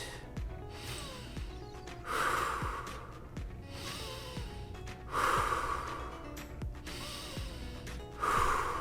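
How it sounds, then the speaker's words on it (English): A child or instructor breathing in through the nose and out through the mouth during a kids' karate lesson, three long audible exhales spaced about three seconds apart, close and alone. "In with your nose, out with your mouth."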